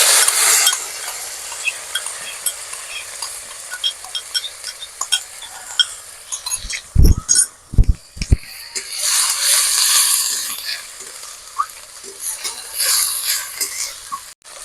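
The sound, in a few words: onion paste frying and being stirred in a pan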